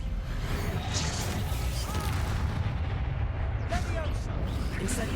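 A Bombardo spell from a Harry Potter wizard game goes off as a burst of crackling blasts and whooshes over a constant rumbling backdrop. Several bangs and swishes come in quick succession, loud and close.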